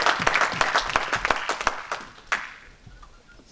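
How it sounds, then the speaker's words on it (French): A congregation at a church sermon breaks into loud applause, with dense clapping that fades out over a few seconds. "Acclamez le Seigneur."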